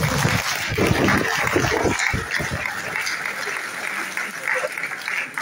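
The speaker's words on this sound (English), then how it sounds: "I think she deserves a bigger and better round of applause" An audience applauds at a convocation lecture at the Federal Polytechnic Ilaro, Ogun State: steady, dense clapping fills the hall, with voices speaking and murmuring underneath.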